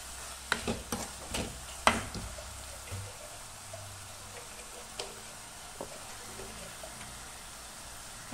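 Ingredients for a green gram curry frying and being stirred in a pan, with a soft sizzle under scattered clinks and scrapes of the spoon, loudest early and then settling into a quieter hiss.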